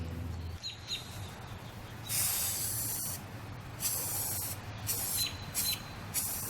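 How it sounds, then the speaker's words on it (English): Aerosol spray paint hissing onto the back of an engraved control panel for a model railway, in several close bursts of a second or so each, separated by short pauses, with no talking. "I'm just going to paint the back side where I engraved all the tracks in"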